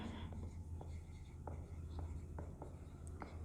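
Faint, quiet taps and scratches of writing on a board in a chemistry lecture room, scattered irregularly over a steady low hum with no clear talk.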